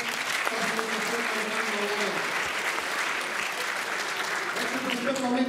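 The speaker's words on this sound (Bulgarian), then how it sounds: "Още веднъж аплодисменти за Ангел Попов." A crowd at a Christmas award ceremony claps steadily for Angel Popov, dense continuous applause with a voice briefly talking over it early on.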